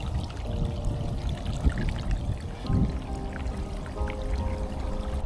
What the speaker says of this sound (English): First, I fill the container up with water.